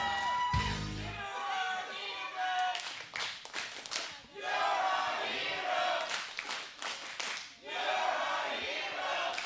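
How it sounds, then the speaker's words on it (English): A wrestling event crowd chants in unison with scattered clapping and shouts, a loud, dense arena roar that swells and dips across the whole stretch. "Crowd chanting, "You're a hero.""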